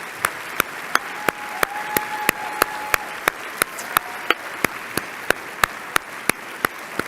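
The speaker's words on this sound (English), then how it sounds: "I'm warning you, Bonnie, there's more clapping to come." Applause at a medical conference plenary session comes as steady, evenly spaced claps with a slow, regular beat over a low hall murmur.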